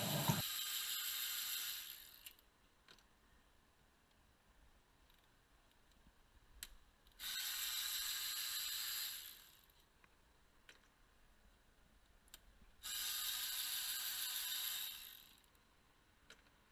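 A ratchet backs out the four 5mm Allen bolts on the throttle body of a 2006 Nissan Armada engine, heard as three separate bursts of rapid, close clicking with quiet pauses between them and no talking.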